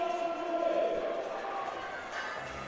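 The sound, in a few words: crowd cheering on a powerlifter before a squat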